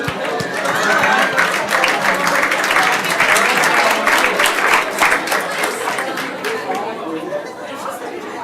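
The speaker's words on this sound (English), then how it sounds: "A little applause." A workshop audience claps steadily for about eight seconds, dense and loud, with lively chatter and voices running underneath the whole time.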